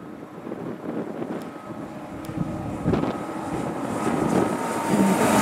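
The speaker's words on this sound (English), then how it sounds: "Fuel tanker" A fuel tanker truck rolls past on the windy A75, a broad rumbling roar mixed with gusty wind buffeting the microphone, building louder toward the end.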